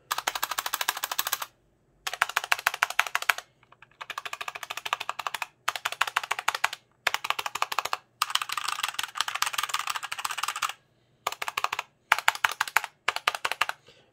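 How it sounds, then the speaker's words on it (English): Typing on a punkston TK-104 full aluminum keyboard with Cherry Red switches, close and crisp bursts of rapid keystrokes separated by short pauses, with no voices. "Something I didn't like was the sound of the keys."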